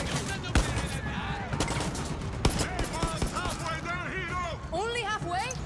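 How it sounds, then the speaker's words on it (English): Gunfire in Far Cry 6 during an oil platform takeover, with bursts of rapid shots and a few sharp single cracks scattered through constant game noise, while players talk over the action. "I'm getting shot trying to save you."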